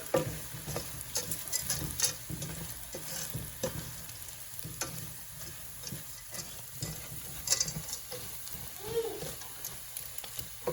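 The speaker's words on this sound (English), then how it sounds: "Dump that in, you're gonna stir it around, let it absorb the butter a little bit." Breadcrumbs are stirred into melted butter in a pan for a crab stuffing, giving a soft, continuous sizzle with repeated scraping and scuffing strokes at close range.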